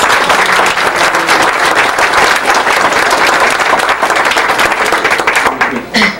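Loud, dense applause from the audience at a Fairfield County, South Carolina council meeting, sustained for several seconds before easing slightly at the end.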